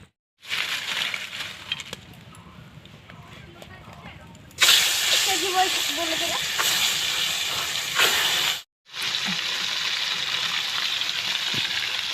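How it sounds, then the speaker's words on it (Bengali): Tengra fish frying in hot oil in a wok, a loud broadband sizzle that erupts suddenly and steadies, briefly cutting out before resuming, with quieter kitchen hiss beforehand. "কড়াই গরম হয়ে গেছে এখন আমি তেল দিয়ে দিচ্ছি মাছ ভাজার জন্য"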